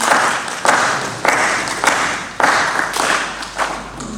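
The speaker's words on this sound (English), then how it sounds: "A round of applause as we welcome Brother Clement" Applause from a crowd at the SSVP All African Assembly as a speaker is welcomed, steady clapping that swells in several waves, loud and close, with no voices over it.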